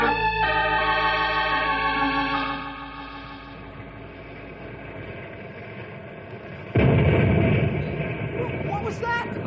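Dynamite going off inside a cave in an old radio drama: a sudden heavy, echoing rumble bursts in over sustained music and keeps rolling loudly to the end.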